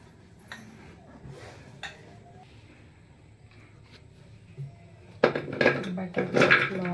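A pressure cooker is taken down from a high shelf and handled in a home kitchen, making a few metallic clanks and knocks that grow louder toward the end over quiet background noise.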